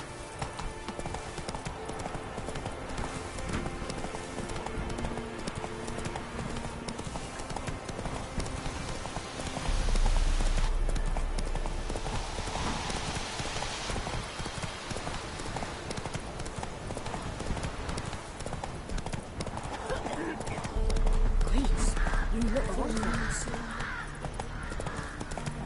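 Roach, the horse in The Witcher 3 video game, gallops steadily with rapid rhythmic hoofbeats over a constant ambient bed, the pace holding throughout with brief swells of louder rumble.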